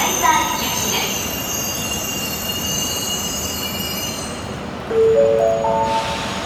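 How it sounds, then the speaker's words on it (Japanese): An E5 Tohoku Shinkansen train rushes through Utsunomiya Station in light rain, a loud continuous roar of wheels and air with high squealing tones, plus a brief station chime near the end. "まもなく下り列車が通過します。"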